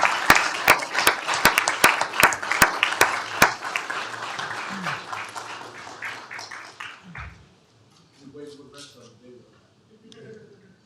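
A round of applause at a county commissioners court session honoring a state championship 6A Division I team, sharp claps rising over a hum of voices, then fading into talk near the end.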